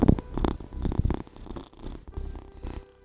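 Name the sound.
cat purring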